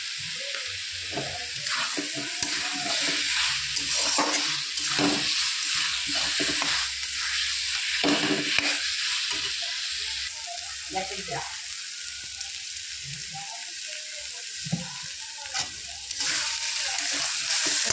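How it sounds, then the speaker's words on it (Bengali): Spices sizzle and fry steadily in a hot pan for a snakehead fish curry, with scraping stirs breaking through the continuous hiss throughout. "সমস্ত মশলা দিয়ে ভালো করে কষিয়ে নেব।"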